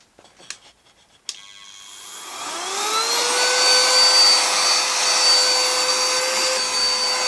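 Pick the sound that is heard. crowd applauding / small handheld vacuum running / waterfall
small handheld vacuum running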